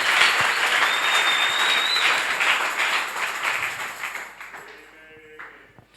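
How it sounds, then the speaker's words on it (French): A church congregation applauds together in a loud, dense burst of clapping that fills the room and then thins out and fades toward the end. "Acclamons le Seigneur Kwa Jésus. Bwana Yesu Kristo makofi."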